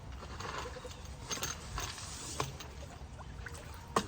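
Suction dredge nozzle pulling gravel while hunting for gold, a steady rushing churn with rattling, clicking stones knocking through the intake and a couple of sharper clacks.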